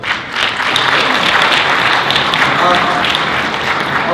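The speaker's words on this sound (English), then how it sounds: "Let's give a round of applause for Tom Frischler." A conference audience applauds Tom Frischler, loud sustained clapping from a large crowd filling the whole stretch, close and even.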